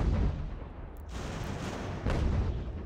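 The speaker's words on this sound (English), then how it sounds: "The gunfire in this game doesn't sound as good as the Civil War game." Musket volleys and artillery fire from the Ultimate General: American Revolution battle game crackle and boom in a continuous, fairly quiet distant din, with two heavier bursts standing out.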